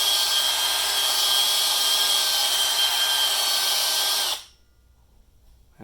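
A drill-driven hone cleans the inside of a Honda Z50 CT70 Dax mini trail triple tree, a loud, steady high whine that cuts off abruptly near the end.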